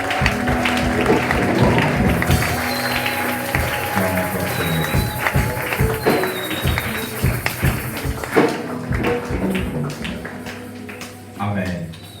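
A church congregation at a Sunday service claps and cheers in praise, with dense rhythmic applause and raised voices that fill the room for several seconds under music before slowly tapering off.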